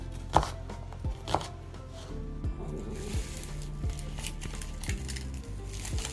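A knife chops ingredients for curry into bite-sized pieces on a cutting board, with close, crisp thunks in an irregular steady rhythm over a light background.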